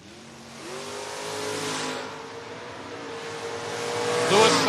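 Two door-class drag race cars, a Mustang and a 1973 Nova, rev and launch, engines rising from a rumble to a hard, climbing roar with a tire chirp at the end, an announcer talking underneath.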